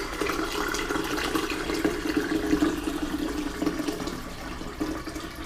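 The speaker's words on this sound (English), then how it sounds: "So first thing I'm going to do is pour some water in the bottom." Water poured into the bottom of a pan for baking a traditional English Christmas cake, a steady close splashing and gurgling stream running continuously.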